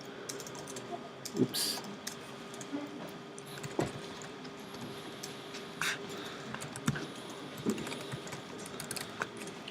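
Computer keyboard keys tapped in short bursts as a username is typed, fairly faint beneath a room hum, with a brief spoken remark.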